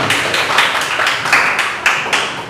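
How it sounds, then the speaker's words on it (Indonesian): Classroom group clapping in uneven bursts at a school lesson, several loud surges over continuous broadband patter, no voices standing out. "tepuk tangan buat kita semua"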